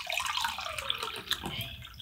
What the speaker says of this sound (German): Ich glaube, ich werde mir trotzdem jetzt hier nochmal einen ganz kleinen Hieb Wasser reinmachen.